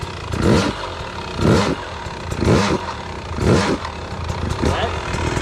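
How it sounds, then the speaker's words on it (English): Hard enduro dirt bike engine blipped in a repeating pattern, five evenly spaced rev bursts about a second apart rising over a steady idle, loud and close, with a voice murmuring underneath. "Now listen to the bike here."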